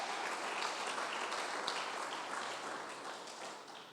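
A church congregation claps together during a sermon, producing a dense, continuous wash of clapping that slowly tapers toward the end.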